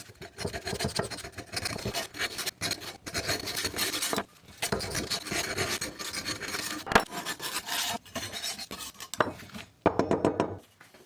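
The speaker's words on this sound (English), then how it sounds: "The first thing to do is get a scraper and scrape all this junk off." A hand scraper rasps caked debris off a lawnmower blade in long rough strokes, loud and close, with brief pauses between passes and no talk.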